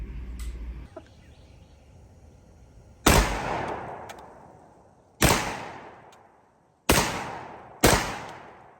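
Four loud, sharp blasts from a G Force GF25 magazine-fed 12 gauge shotgun, spaced irregularly over several seconds, each with a long ringing decay outdoors; a light rustle precedes the first shot.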